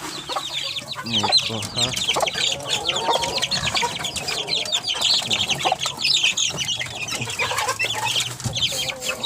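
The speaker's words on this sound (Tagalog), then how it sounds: "Ito po yung manok na mga itim yung laman." Black-meat native chickens cluck repeatedly up close in a busy, overlapping chatter, with a brief human voice in the background.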